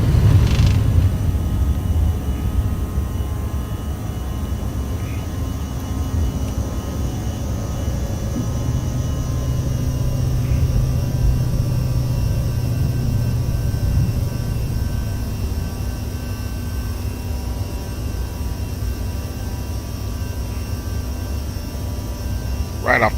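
CRJ 700 jet engines at takeoff power in the X-Plane 11 simulator, a steady loud low rumble and hum that holds through the roll and rotation, with faint voices underneath.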